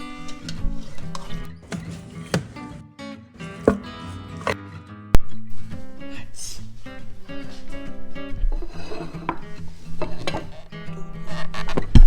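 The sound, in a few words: knife slicing smoked chuck roast brisket on cutting board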